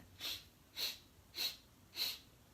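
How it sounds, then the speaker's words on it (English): Four short, evenly spaced sniffs through the nose, close and soft, forming a steady rhythm with quiet pauses between them. "So it's 4 sniffs in."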